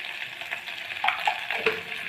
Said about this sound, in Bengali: তো আলুগুলো আমরা একটু প্রথমে হালকা করে ভেজে নেব